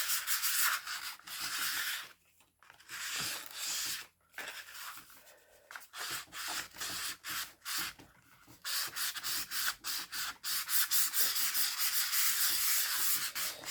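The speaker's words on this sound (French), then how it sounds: "Et on va venir poncer tout le livre." Rough, rhythmic sanding strokes rasp back and forth close up over a book cover for a junk journal, with a few brief pauses before the scraping resumes.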